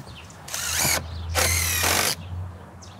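A power drill drives screws into the corner of shed wall framing in two bursts of high-pitched whirring, each about half a second to a second long, close and loud with quiet gaps between them.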